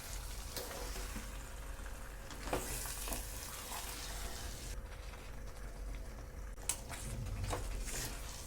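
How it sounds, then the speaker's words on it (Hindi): Marinated chicken frying in a spice paste for murgh makhmali gravy, a continuous soft sizzle with intermittent stirring scrapes and clicks, fairly quiet and close. "अब हम इसमें अपना मैरिनेट किया हुआ चिकन भी ऐड कर लेंगे और पेस्ट के साथ अच्छे से चलाते हुए मिक्स कर लेंगे।"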